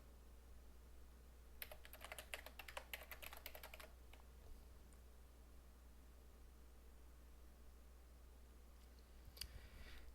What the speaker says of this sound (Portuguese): Vou digitar aqui um e-mail.